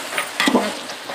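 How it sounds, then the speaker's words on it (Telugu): Ginger garlic paste sizzles and crackles as it is stirred into a large pot of oil for a 5 kg vegetable biryani, close and brief with a scrape of the ladle. "అల్లం వెల్లుల్లి పేస్ట్ వేసుకోవాలి."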